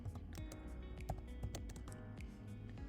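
Rapid keystrokes on a computer keyboard as a captcha is entered on an online US visa application form, irregular clicky taps close by with no talk.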